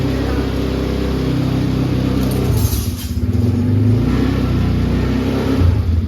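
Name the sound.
ATV quad bike engine revving, sounding like a Hayabusa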